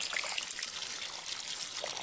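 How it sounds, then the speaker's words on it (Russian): Water overflows and runs out of a heat pump well pipe in a steady, close, rushing trickle that stays even throughout, with no talk. "вот так вот выбегает сейчас вода у меня."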